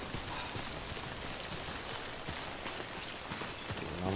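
Steady rain falls across a scene in the video game Death Stranding, a dense, even hiss of drops that continues unbroken for the whole stretch with no voices over it.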